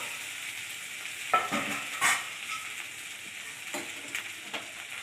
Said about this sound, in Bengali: 10 মিনিট মতো আরও একটু ভালো করে কষিয়ে নেব